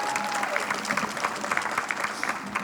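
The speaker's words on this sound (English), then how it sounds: "go ahead and clap" Audience applause at a school district centennial celebration and ribbon-cutting ceremony for educational staff housing, a steady moderate clapping texture that fills the moment with a faint crowd murmur.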